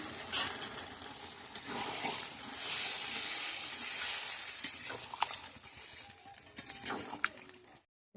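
Chicken curry with potatoes frying in a pan as water is poured in, setting off a loud, continuous sizzle and hiss with stirring clatter, fading out at the end.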